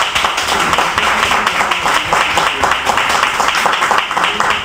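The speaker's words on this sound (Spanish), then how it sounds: "Para los dos, mi aplauso nuevamente." Audience applause at a Cuban music and poetry tribute, a dense steady wash of clapping held at a constant level for several seconds with no talk over it.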